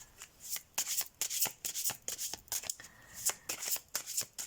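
Playing cards being shuffled and drawn during a tarot-style reading, a quick run of crisp riffling slaps and flicks in irregular bursts, close and fairly loud with no talking.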